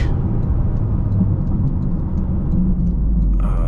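A 2024 Toyota GR Corolla Premium drives along with a steady, loud engine and road rumble heard from inside the cabin, continuous throughout and with no talking.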